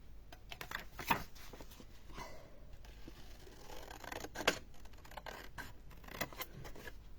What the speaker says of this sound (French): le marquage qu'on a fait, on va le couper